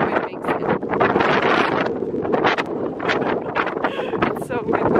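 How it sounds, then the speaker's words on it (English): Strong wind at a campsite near the beach, gusting steadily against the microphone with rumbling buffets and a few brief rises, and some speech heard in the mix. "It's so windy."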